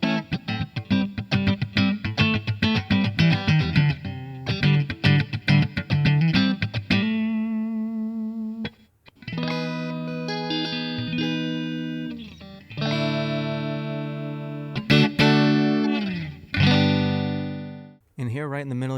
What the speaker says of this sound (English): So first we have a Fender Twin type tone here.